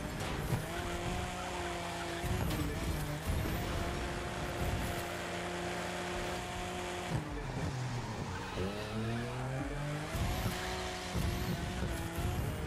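A BMW Z4 races in The Crew 2, its engine holding steady harmonic tones that rise and drop through gear changes, with brief tire squeals on corners, continuous and close throughout.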